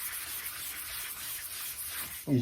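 Sandpaper rubs steadily over oxidized gel coat on a 1997 GTX personal watercraft hull, a continuous close scratchy hiss that ends with a brief low thump.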